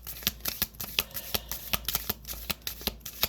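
Tarot card deck shuffled by hand, a rapid run of crisp papery riffles and slaps in an irregular rhythm, close and moderately quiet, with no talking.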